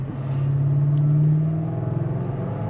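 A pickup truck engine revs under throttle, rising to a loud, steady droning growl that holds for about a second, then eases back into a rougher, pulsing idle rumble; close and alone, with no talking.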